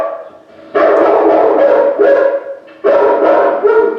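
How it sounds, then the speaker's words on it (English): A big motion-activated mechanical dog statue with a mechanized mouth lets out two loud bursts of deep, harmonic barking, each lasting over a second, with a short pause between them and no talking. "It's a big dog barking."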